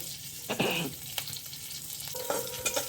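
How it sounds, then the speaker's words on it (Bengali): Cumin and chili tempering sizzles softly in oil while a utensil scrapes and stirs the pan a few times, close and fairly quiet. "এবার এটা ফোড়নটা ভালো করে ভাজা হয়ে গেলে"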